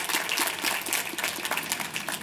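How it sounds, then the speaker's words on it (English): A large commencement crowd gives a sustained round of applause for Queens College alumni, a dense and steady wash of clapping from many hands that holds at an even level throughout. "let's have another big round of applause for all of the Queens College alumni"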